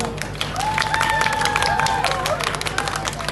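An audience at a Punjabi Teeyan festival stage show applauds steadily and fairly loudly, with dense clapping and crowd noise under a voice talking.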